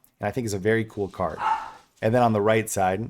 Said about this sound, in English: excuse my dogs